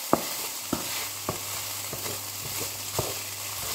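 Paella simmers in the pan with a soft continuous sizzle and low bubbling, punctuated by several light knocks and clicks at irregular intervals, close and quiet with no talk.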